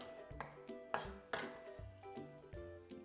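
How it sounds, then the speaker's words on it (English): A knife roughly chops fresh garlic cloves on a cutting board: about eight quiet, uneven knocks in an irregular rhythm, close by and otherwise unaccompanied. "Give it all a nice rough chop here."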